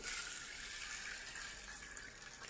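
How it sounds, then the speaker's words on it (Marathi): Water poured from a vessel over a bowl of sabudana (tapioca pearls) to soak them, a steady close hiss of running water that holds evenly for a couple of seconds. "यामध्ये पाणी टाकून घ्यायचंय"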